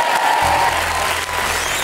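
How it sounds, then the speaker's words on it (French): Studio audience on a French evening talk show breaks into loud, sustained applause that fills the whole moment, dense and steady from start to finish with some cheering mixed in. "on l'applaudit"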